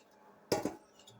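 A lid set over a cake pan, a single close metallic clink with a quick second clatter right after, in an otherwise quiet kitchen.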